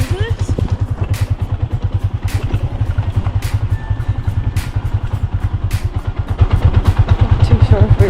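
Motorbikes bump along a very bad road, their engines thudding in a steady rapid pulse with rattling clatter and sharp knocks from the rough surface. A voice talks over the riding.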